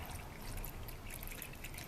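Green coolant poured into a car radiator during a radiator flush, a faint steady trickle of liquid running continuously without break, quiet and close.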